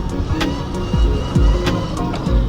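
A Subaru WRX engine surges through throttle blips as the car tries a wheelie, with rising and falling revs repeating over a steady road rumble, loud and close.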